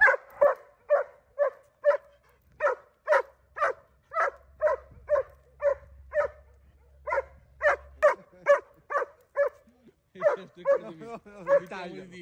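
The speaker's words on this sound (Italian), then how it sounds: "Quando esce abbaia sempre." A German shepherd on a leash barks over and over in a steady, rhythmic run of sharp, fairly close barks, moving into whiny yelps toward the end.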